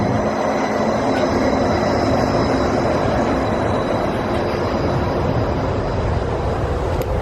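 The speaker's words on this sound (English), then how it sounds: "There goes the monorail" A Disney monorail passes by at Downtown Disney in California, a steady loud rumble of rail wheels and motor noise holding level throughout without pause.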